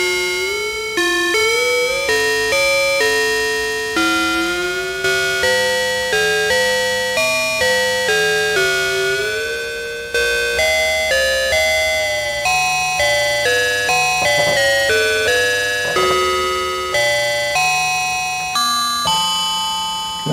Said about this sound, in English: Kind of bell-like tones.